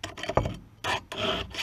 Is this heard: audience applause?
no